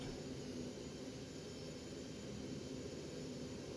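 Steady, even roar of an Embraer 145 regional jet's engines in the X-Plane 11 flight simulator, a constant broadband rumble with a faint high whine running unchanged throughout, no voices.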